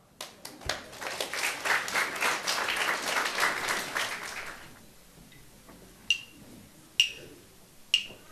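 An audience applauds at a school end-of-year concert in Kartal, Hungary, a dense wash of clapping that fades away, followed by a few separate sharp knocks in the quiet.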